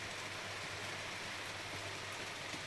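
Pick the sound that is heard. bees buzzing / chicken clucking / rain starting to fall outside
rain starting to fall outside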